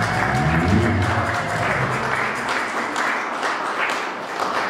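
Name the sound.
congregation applauding the Lord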